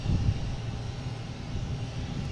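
An Aer Lingus Airbus A330-300 arriving from Dublin gives a steady, low, distant jet rumble that holds evenly throughout with no talk.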